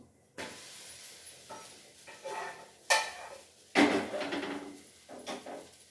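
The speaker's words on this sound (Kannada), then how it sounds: "ನೋಡಿ ಇದು ಇವಾಗ ತಿರುವಾಗ್ತೀನಿ, ಬೆಂದಿದೆ ಈ ಥರ" A dosa being flipped on a hot pan, a few scraping and clattering knocks of a spatula against metal, close and fairly faint, spaced irregularly with quiet gaps between.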